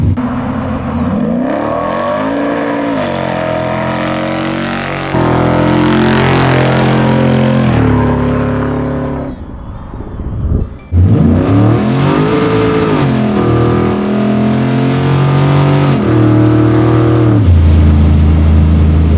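A garage-built Chevy Nova SS pro-street muscle car engine revs hard through manually shifted gears, loud rising pulls broken by brief drops at each shift, close and alone with no voices.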